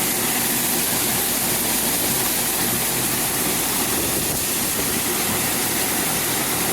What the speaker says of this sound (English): Rolling some corn ahead of the cold snap.